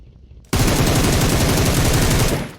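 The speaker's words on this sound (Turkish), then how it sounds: "Öteki de bana sıkıyor ta oradan." Sustained automatic gunfire in PUBG Mobile erupts after half a second of quiet, a loud, dense, rapid rattle of shots that holds steady for about two seconds before tapering slightly.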